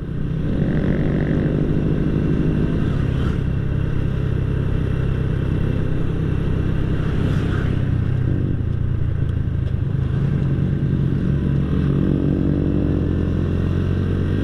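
A Honda Astrea Grand motorcycle fitted with a bobokan exhaust hums on a test ride, a loud steady low engine drone that runs continuously throughout.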